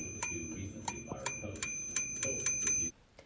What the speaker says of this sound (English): the bell works fine.